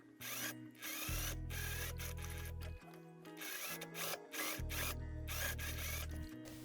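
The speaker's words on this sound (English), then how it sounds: "sew the front skirt onto the front" A sewing machine runs in long, steady bursts while stitching a fabric skirt seam to the bodice front, its motor whirring and rattling between short pauses, close and clear.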